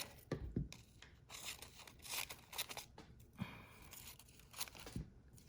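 Regular scissors or paper snips shred the top of paper into fringe for an ombre gift bag, giving quiet, close crunching snips and rustles in an irregular rhythm with pauses.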